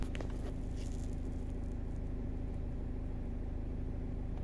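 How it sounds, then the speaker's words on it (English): A VW Audi 2.0 TDI diesel engine turns over and settles into a steady, low idle rumble with some light ticking, close by and continuous, with no talking. "Let me just start the car."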